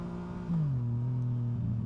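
A new motorcycle's engine hums with a steady, close droning tone that briefly shifts and settles lower as the bike pulls away, with no voices.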